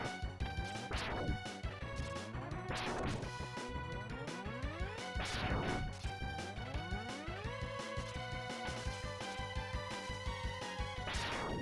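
Objects breaking in the emulated video game Mega Man X, repeated harsh crashing bursts over a dense, distorted stream of electronic game music and sound effects, loud and continuous with no voices.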